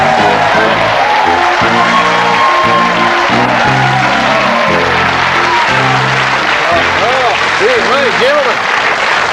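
Studio audience applause and cheering on an Australian football TV panel show, a broad sustained wash of clapping with whoops and rising cheers toward the end, under a host's talking.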